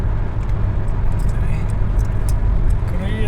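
Steady, loud road and engine rumble from a car cruising on a highway at around 120 km/h, a continuous low drone with someone talking over it.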